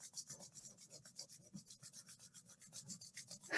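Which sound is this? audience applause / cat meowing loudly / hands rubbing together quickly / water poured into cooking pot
hands rubbing together quickly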